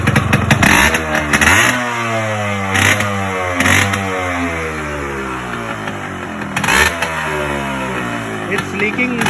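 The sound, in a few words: Yamaha RX 100 motorcycle engine revving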